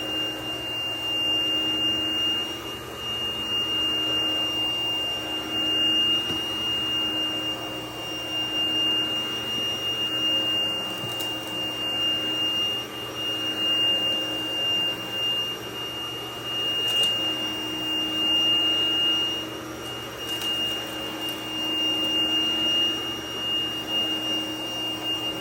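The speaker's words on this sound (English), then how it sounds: "The brush roll is spinning." Dyson DC01 upright vacuum cleaner running on 120 volts with its brush roll spinning, a steady, fairly loud motor whine and airflow roar with a constant high tone, heard alone without speech.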